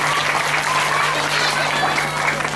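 An audience at an evening religious gathering in a village breaks into dense, sustained applause, steady clapping from many hands throughout without pause, with a low constant hum beneath.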